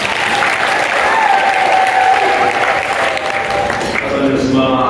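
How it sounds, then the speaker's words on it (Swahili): A church congregation at a prayer service led by women breaks into loud, sustained applause. Ululation may be mixed into the clapping, and it continues at full strength until near the end. "Makofi mengi na vigelegele."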